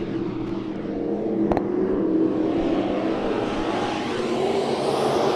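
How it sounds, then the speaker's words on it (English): Sport Mod race cars roar into turn one during a dirt-track heat race at Santa Maria Raceway, a loud, continuous engine blare that swells slightly as the pack charges the corner, with a brief sharp knock partway through. "Into turn number 1, heat race number 1 for the Sport Mods."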